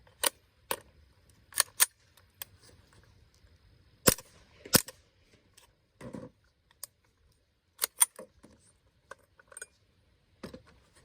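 A Gemtech QDA quick-detach suppressor adapter on a .22 LR firearm snaps on and off in a series of sharp, isolated metallic clicks spread irregularly across the clip, close and crisp against near silence.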